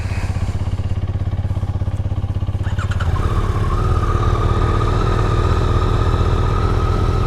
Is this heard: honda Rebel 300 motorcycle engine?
yes